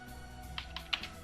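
Soft, scattered keystrokes tap on a computer keyboard, a few irregular clicks close by over a quiet hum.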